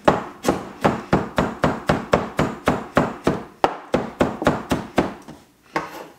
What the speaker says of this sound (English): I've diced the ginger into pieces I think are small enough for me to tolerate.